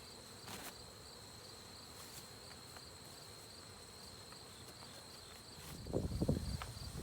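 Honeybees hum steadily at an open hive while foragers bring in goldenrod pollen. The drone stays faint and even throughout, and close handling knocks and rustles come in near the end.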